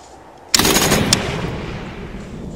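A single loud burst of gunfire from a World War II setting erupts abruptly after a near-silent start, then trails off in a long echoing decay.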